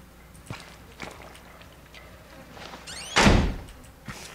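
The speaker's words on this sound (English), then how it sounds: "shut the door really loud" In the horror video game Outlast, footsteps shuffle, then a door slams shut with a loud, heavy thud, close and abrupt, and a faint step follows.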